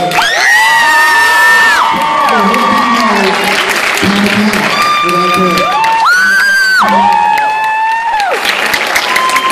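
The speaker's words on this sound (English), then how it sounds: "So if I get some applause for her." A crowd at a library comic convention applauds while loud, pitch-swooping shouts and whoops ring out over the clapping. The cheering stays energetic and close for the whole stretch.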